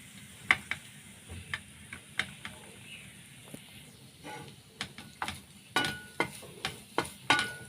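Ripe nendran plantain with grated coconut and cardamom is sautéed in a pan, heard as quiet, irregular spoon taps and scrapes over a faint low sizzle, growing busier toward the end.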